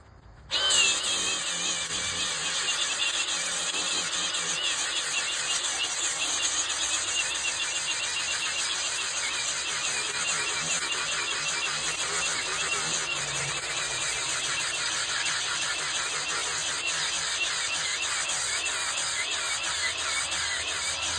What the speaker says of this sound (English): Now we'll show you how that flapper wheel works on paint wheels.